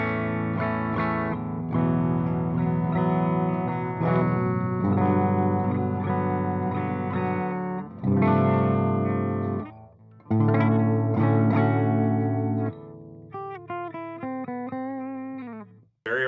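Distorted electric guitar from a Gibson SG on the bridge pickup alone, loud and bright, played as sustained chords and riffs, ending with a run of clear single notes, no voices.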